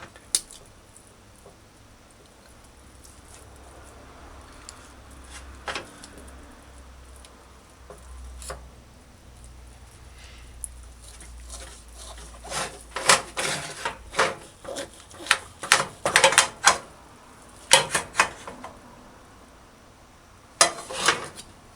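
A knife slices through a cooked beef pot roast against the grain, giving a run of soft, irregular cutting taps and scrapes against a board or plate that grow louder and busier toward the end, with no talking.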